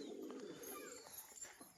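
Domestic pigeons in a breeding loft give soft, low cooing calls that repeat through the short stretch, fairly faint against quiet background noise.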